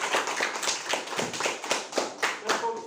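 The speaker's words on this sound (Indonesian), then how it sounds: "Ya, tepukan dulu." A small school class claps in a loose, uneven rhythm for a few seconds, close by, with crisp slaps overlapping and voices faintly mixed in.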